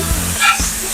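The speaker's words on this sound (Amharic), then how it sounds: "አቤት የብረት ምጣድ ጥብስ ይላል" Tibs meat sizzling in an iron pan, a brief loud hiss of frying with a soft scrape partway through.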